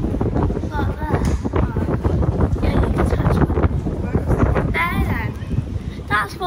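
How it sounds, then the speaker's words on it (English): Strong wind buffets the microphone with a steady low rumble throughout, while people talk over it. "Why is it so windy?"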